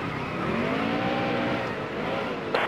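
A NASCAR race car engine in NASCAR Heat Evolution at Sonoma hums steadily close by, its pitch gliding up and down as cars run alongside, with a brief sharp noise near the end.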